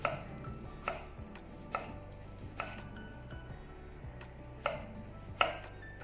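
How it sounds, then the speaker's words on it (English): A knife cuts a white onion into rounds on a cutting board, giving sharp chopping knocks spaced irregularly, about seven strikes, close and clear over a quiet background. "Now let us cut the white onion as well. For white onion we will just do rounders like this."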